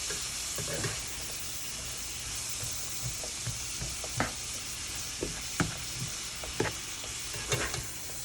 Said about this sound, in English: Now these are gonna saute for a little bit because we got these carrots, the celery